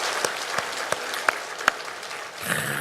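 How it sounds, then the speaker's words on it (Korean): Church congregation applauding in praise at a Korean pioneer church service, a steady wash of clapping with a few sharp individual claps standing out, filling the room without any talk. "우리 개척교회 하게 하신 우리 하나님께 영광의 박수 한번 올려드리고"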